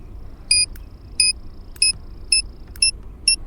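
Countdown timer on a Suicide C4 explosive in a video game, beeping six times in short, evenly spaced electronic chirps over a low background hum.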